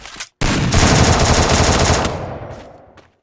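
A short burst opens, then loud sustained automatic gunfire from the Free Fire video game roars up close for nearly two seconds before tapering off, with a couple of faint shots trailing after.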